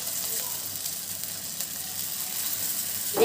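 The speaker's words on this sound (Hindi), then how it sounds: "एक एक करके हम इस ऑयल में ऐड करते जाएंगे फ्राई करने के लिए।" Ragda pattice patties hitting hot oil on a medium flame give a steady, fine crackling sizzle, moderately loud and close, with a brief louder burst at the end.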